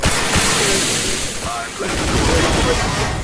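P90 gunfire in a video game, loud continuous rapid shots and bursts filling the whole clip while several voices talk over it.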